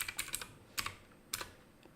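Computer keyboard typing in quick, light key clicks, arriving in small clusters of taps with pauses between, soft and close with faint background hiss.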